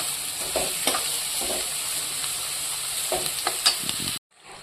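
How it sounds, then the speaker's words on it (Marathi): Onions fry in hot oil in a pan for pav bhaji, giving a steady loud sizzle with a few soft stirring scrapes, then cutting off abruptly near the end. "तेलामध्ये कांदे छान असे फ्राय करून घ्यायचे, ब्राऊन होईपर्यंत।"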